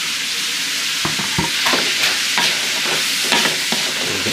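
Young jackfruit and mushrooms sizzle steadily in a pan while a utensil stirs and scrapes them in irregular strokes, close and loud with no talking.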